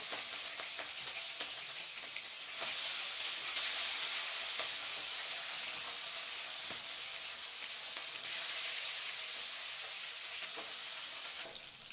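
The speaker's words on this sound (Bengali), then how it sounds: "তেল গরম হয়ে গেছে এবারে আমি মাছগুলো সব ভেজে নেব" Fish frying in hot oil in a wok (kadai), a steady, loud sizzle and crackle running the whole time with no voices over it.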